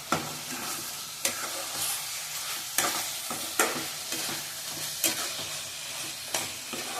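Tomatoes frying in a pan for mutton liver gravy are stirred lightly, a continuous sizzle punctuated by regular clanks and scrapes of the spoon against the pan, close and fairly loud, with no one speaking.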